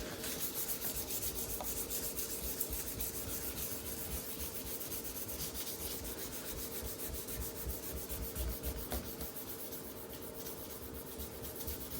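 Steady, even rasping of 1200 grit sandpaper rubbed by hand over a rust-repaired body panel on a Mk3 Ford Fiesta, continuous back-and-forth strokes close up with no talking.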